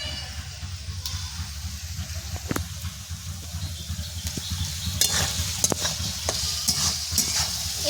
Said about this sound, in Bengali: এবার আলু আর গাজরগুলো দিয়ে একটু ভেজে নেব।